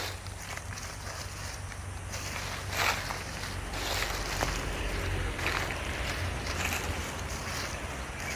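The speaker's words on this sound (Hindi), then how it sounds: "वो आवाज़ पत्तों की।" Dry leaves rustle in a continuous, crackly hiss with soft swells and brief louder bursts, fairly close and steady throughout, with no talking.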